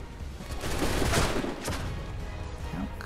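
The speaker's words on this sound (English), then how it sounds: "stop shooting me" Gunfire in Assassin's Creed III, a sustained loud volley of overlapping shots and crackle, densest early on and then continuing steadily to the end.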